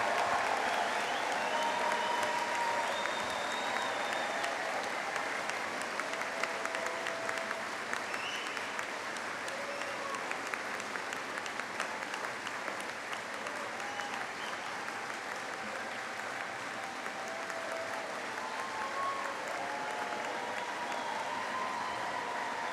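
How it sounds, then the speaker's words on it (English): A commencement crowd applauds the Denison University class of 2025, a dense, steady wash of clapping from many hands that holds evenly for over twenty seconds with no talk over it. "Can we just give the great Denison class of 2025 a round of applause?"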